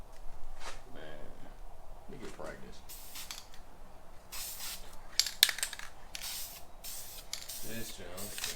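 Short bursts of aerosol tint spraying onto a Ford Maverick taillight in a light coat, several broad hissing passes in close-up, separated by pauses with someone talking in between.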